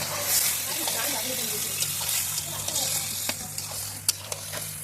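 Raw meat frying in a browned spiced masala while being stirred, a dense steady sizzle broken by sharp clicks of a spoon against the pot, with voices in the background.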